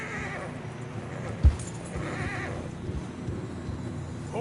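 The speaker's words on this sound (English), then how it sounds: "Horses are struggling." Horses struggle through fresh snow in a video game, with a soft whinny and muffled hoof and snow movement sounds over low wind noise, and one brief thump.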